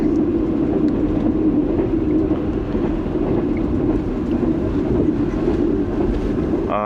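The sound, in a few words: moving train, Pak Business Express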